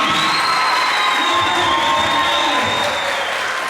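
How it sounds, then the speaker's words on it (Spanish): A crowd at a Dominican national holiday celebration applauds and cheers, continuous clapping with shouts and whoops layered over it, loud and close throughout. "Un aplauso para ellas."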